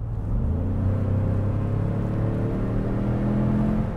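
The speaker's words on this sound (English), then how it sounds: "It's kind of just like this drony V8-ish sound from like a simulated kind of perspective, because this is a V6." A 2020 Ford Expedition's V6 revs hard from inside the big SUV, a droning, V8-like synthesized tone rising steadily in pitch, loud and continuous with no talking.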